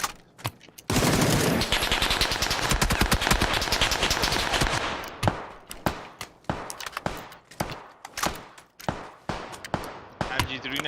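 Sustained MG3 machine gun fire in PUBG, a long dense automatic burst followed by rapid separate shots and short bursts, loud and close throughout.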